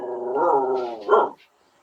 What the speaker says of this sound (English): you've set my dog off now